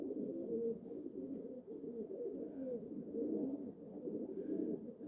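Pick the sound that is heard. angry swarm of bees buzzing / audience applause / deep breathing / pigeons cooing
pigeons cooing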